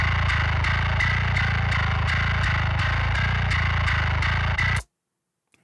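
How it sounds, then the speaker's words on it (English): A heavily distorted bass guitar plays a pulsing, repetitive riff with sharp regular attacks, then cuts off abruptly into silence. "that is just the bass doing its thing"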